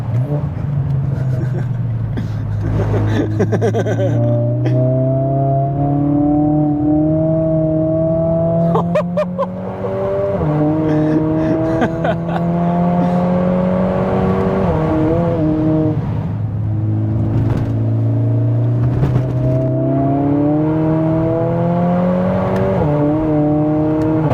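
Loud 500 bhp Mercedes-AMG A45 S engine revving up and down repeatedly on a wet track with traction control off, sharp snapping gear changes between climbing pitches, close to the listener.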